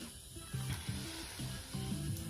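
Meat coated in a sweet and spicy rub sizzles over an open fire, a soft steady crackle with faint clicking pops, quiet and close with no talk.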